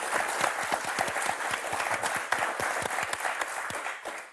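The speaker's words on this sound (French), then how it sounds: "Allez, comme au spectacle, on applaudit." An audience at a French magic show applauds, dense sustained clapping from a crowd that stays loud for a few seconds before starting to fade.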